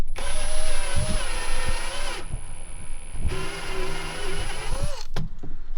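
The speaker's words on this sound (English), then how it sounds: "we're going to use our step bit here, and we're now going to oversize that hole that we drilled" A power drill with a step bit enlarges a hole in the dash of a Can-Am Defender HD11 utility vehicle, whining in several bursts with pitch shifts and brief pauses, close and loud, no talking.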